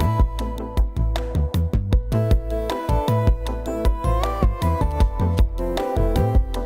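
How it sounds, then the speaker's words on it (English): A computer-produced synth melody moves in parallel fourths and fifths, with a hollow, somewhat robotic tone. Notes are plucked in a lively rhythm over a deep bass line, loud and clean, with no voices. "That's the sound of harmonizing in fourths and fifths."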